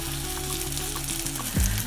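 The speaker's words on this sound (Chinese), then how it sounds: "一个平底锅，放入2大匙油，开中火，锅子温热之后就可以放入素火腿了" Vegetarian ham frying over medium heat in a flat pan with two tablespoons of oil, giving a steady close sizzle that flares briefly louder near the end.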